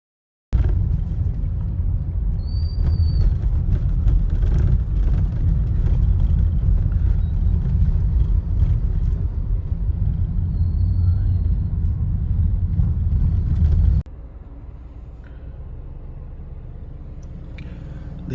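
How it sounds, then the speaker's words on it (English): Car engine idling and rumbling up close, a steady low drone that holds for most of the stretch, then drops abruptly to a quieter hum near the end. "I'm just warming up the car. It's almost done, so we are on the way."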